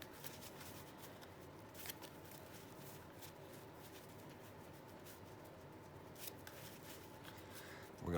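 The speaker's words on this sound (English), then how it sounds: "We're going to shuffle it again." A trading card deck shuffled by hand, a quiet, steady riffling and sliding of cards with occasional sharper snaps, close up and continuous with no talk.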